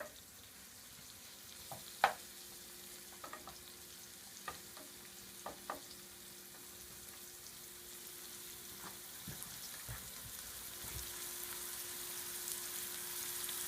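Onions frying in a pan until soft for stuffed peppers, a faint, steady low sizzle with scattered ticks and a few sharp stirring clicks, rising slightly toward the end.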